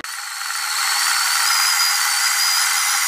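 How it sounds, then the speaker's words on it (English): Espresso machine's built-in grinder grinding coffee beans: a steady high-pitched whirring grind that starts abruptly and holds constant for a few seconds, close and alone. "now you can grind the coffee there"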